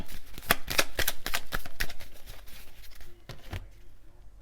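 A deck of cards is shuffled and drawn for a card reading. Close, quick riffling and flicking bursts come at an uneven rhythm, followed by a few soft taps as cards are laid down.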